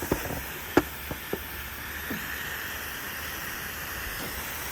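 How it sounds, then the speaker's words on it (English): Sprayer lightly spritzing cleaner over an asphalt shingle roof on a hot day gives a continuous outdoor hiss with a few faint knocks and clicks near the start. "I'm just gonna keep lightly spritzing like this, and then let it soak a little bit"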